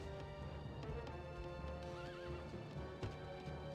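Horses whinny and neigh over a steady clatter of hooves and battle noise in the Rise of Nations real-time strategy game, a dense, continuous game soundscape with a rising neigh in the middle.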